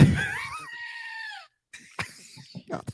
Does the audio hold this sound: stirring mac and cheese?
no